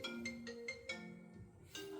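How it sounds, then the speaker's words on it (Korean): A phone ringtone chimes during a union election campaign speech at a bus workers' meeting, a faint repeating electronic melody of short tones playing alone. "전화 좀 받으세요"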